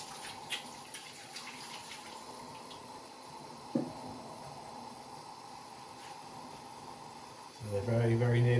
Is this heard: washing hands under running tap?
yes